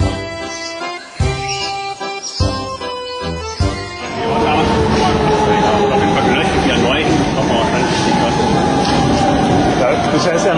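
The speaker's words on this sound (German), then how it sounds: "ist soeben wieder in den Zug gestiegen und fährt nun von dannen." Train pulling out of a station in Mönchengladbach, with a broad steady rumble and rising hum building from about four seconds and holding loud, after a stretch of choppy sounds and voices.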